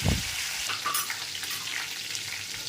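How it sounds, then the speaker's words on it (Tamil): Green chillies and curry leaves sautéing in hot oil for fish curry, a brief burst of crackle followed by a soft steady sizzle, close and quiet. "லைட்டாக அப்படியே வதக்கிக்கலாம்"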